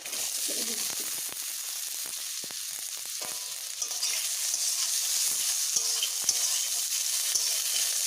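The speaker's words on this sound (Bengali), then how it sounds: "আলু দেওয়ার পরে আমি আরও একটু ভালোভাবে ভেজে নেব" Potatoes fry with garlic, chili and black cumin in hot oil, a dense continuous sizzle with occasional crackles and stirring clicks, close and steady.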